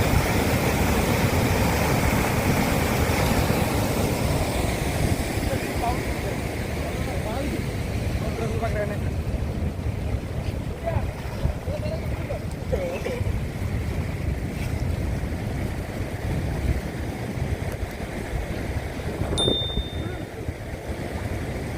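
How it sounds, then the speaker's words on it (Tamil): Water rushing through the Iranaimadu tank spillway makes a loud, continuous roar that holds steady throughout, with wind buffeting the microphone and someone talking over it. "பாருங்கள் தண்ணி எவ்வளவு வேகமாக பாஞ்சு கீழே இறங்கி இப்படியே போகுதுன்னு பாருங்கள்."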